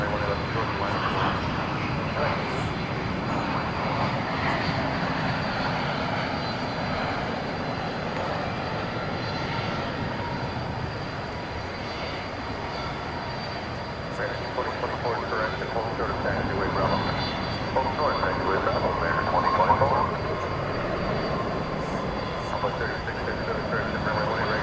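A UPS Boeing 767 cargo jet departs DFW Airport at night: a steady, broad jet roar heard from a distance that swells slightly toward the end.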